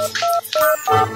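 A telephone number is being dialed: a quick run of three or four distinct electronic keypad beeps, each short and clear, close and alone.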